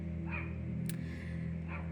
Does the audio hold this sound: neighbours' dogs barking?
yes